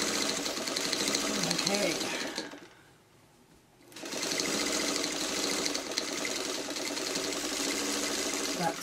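Sewing machine back stitching fabric coasters, running steadily and close, stopping briefly partway through, then whirring on again, with a short spoken word over it.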